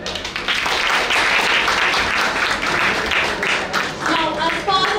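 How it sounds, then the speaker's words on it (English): An audience at a school special assembly breaks into loud, dense applause that holds steady for several seconds, with voices rising through the clapping near the end. "Can we have a huge round of applause to them?"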